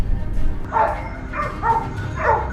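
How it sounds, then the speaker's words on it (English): A hunting dog barks frantically during a wild boar hunt, a few loud, urgent barks in short bursts over steady outdoor background noise. "The dog's frantic barking erupted."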